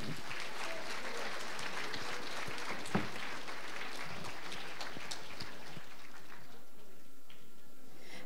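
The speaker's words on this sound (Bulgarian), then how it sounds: "Моля вашите силни аплодисменти за Диляна Тоцева и Георги Иванов." Conference audience applauds as speakers are welcomed to the stage, a steady patter of many hands clapping with a brief sharp knock midway, thinning out toward the end.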